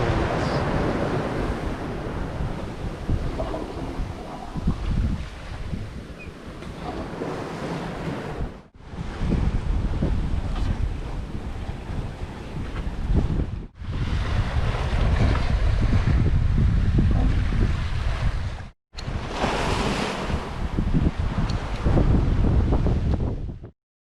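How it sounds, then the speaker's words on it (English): Rough seas in the Bay of Biscay heard aboard the sailboat Saetta: loud, continuous roaring wind and crashing waves, broken by a few brief silent gaps, with no talking. "These waves are killing us."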